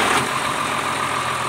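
A car engine idling in neutral during a test start after rework on its engine stop relay, a steady, even rumble held close and constant with no talking.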